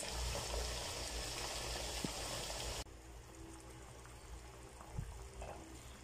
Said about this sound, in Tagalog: prito muna natin yung patatas